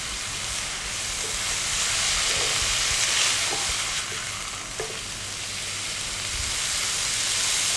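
Steady loud frying hiss of zucchini noodles in a pan, with occasional soft scrapes and taps as the strands are lifted and turned from the bottom, close and continuous without talk.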